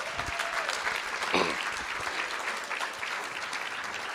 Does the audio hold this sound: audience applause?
yes